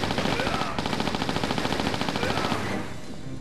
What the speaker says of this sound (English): Let's get the Uzis and kick some ass